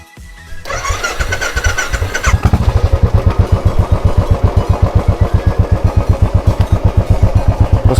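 A Royal Enfield Bullet 350 single-cylinder motorcycle engine starts up, then settles into a steady, loud, close idle with evenly spaced thumping beats, with no talk.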